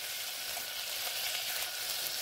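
Chickpeas and onion fry in a covered pressure cooker, giving a steady, dense sizzle that holds at an even level throughout with no talking.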